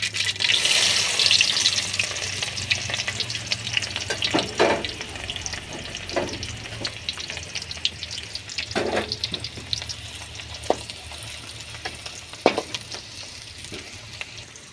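Onions hiss and sizzle as they go into hot oil with mustard seeds for chicken pallipalayam. The frying is loudest at the start and eases off, broken by spoon scrapes and clinks against the pan, with no talking.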